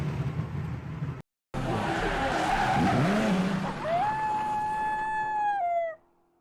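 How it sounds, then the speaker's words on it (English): A 1968 Camaro slides sideways in third gear with a rising tire squeal and engine howl, followed by a long sustained skid tone that cuts off abruptly, heard from close by. "That's third gear sliding sideways."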